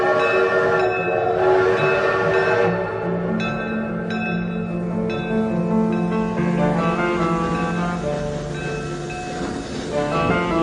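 A train pulls out of a station on a fine summer's morning, heading from Paris toward London: a dense, loud rumble of rolling carriages and rail clatter, with tonal horn or whistle blasts rising early, continuous throughout.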